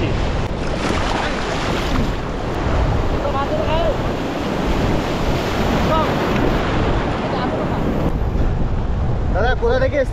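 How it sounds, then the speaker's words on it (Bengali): Sea waves break and wash onto Bagda beach in a continuous loud roar of surf, with wind buffeting the microphone close by. "একদম দীঘার মতো ঢেউ পাচ্ছি।"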